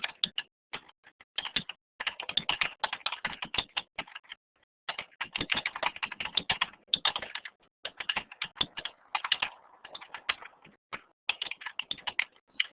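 Rapid typing on a computer keyboard, close and steady, in quick bursts of clicks separated by short pauses, with no talk.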